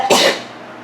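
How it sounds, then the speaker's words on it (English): A single sharp sneeze bursts out close by from a person with allergies during an indoor orchid tour in a new home, then fades quickly into quiet. "I'm gonna sneeze"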